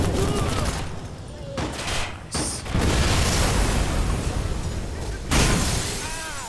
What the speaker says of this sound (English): More epic explosions.